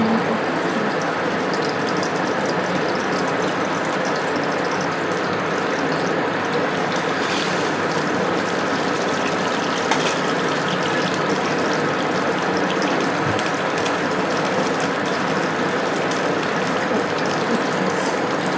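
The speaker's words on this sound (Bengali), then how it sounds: "ডিমগুলা খুব সুন্দর করে নেড়ে চেড়ে ফ্রাই করে নেব" Eggs frying in hot oil for fried rice, a steady dense crackling sizzle running continuously and fairly loud throughout, with no talk.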